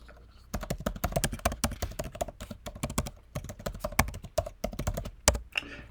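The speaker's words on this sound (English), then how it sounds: "So I'm going to type in the admin at my domain." Rapid typing on a computer keyboard, a quick irregular run of close, crisp key taps heard alone.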